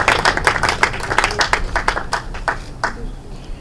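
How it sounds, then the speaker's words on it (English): An audience at a Ghana tribute event gives a short round of applause for a tourism ministry deputy director, the scattered hand claps fairly close and uneven, thinning out toward the end. "Let's give him a big round of applause."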